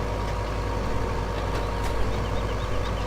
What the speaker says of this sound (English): Kind of hear the tractor lug every time the ram strike comes because it doesn't have a big flywheel on the baler.